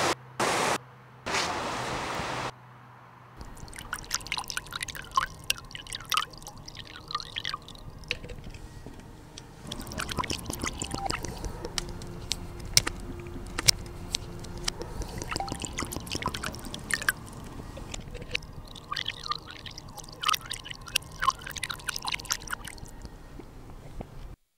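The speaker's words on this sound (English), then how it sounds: "It's an artesian water source." Water runs from an artesian source with a steady hiss and a scatter of bright drips and splashes. The flow cuts out briefly and then resumes with a dense patter that stays at a moderate level, with no voices.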